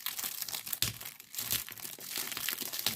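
Close, quiet crinkling and tearing as an Amazon cardboard box with its packaging is pulled open, in short scrunching bursts with brief pauses between them.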